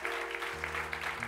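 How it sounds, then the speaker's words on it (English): Applause from a church congregation as a preacher is welcomed to the pulpit, a steady wash of clapping that fills the brief moment over a low organ or keyboard drone. "Would you put your hands together and welcome the man of God to the pulpit?"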